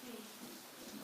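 Steady rain falls in a soft, even hiss throughout, faint and continuous with no clear individual drops.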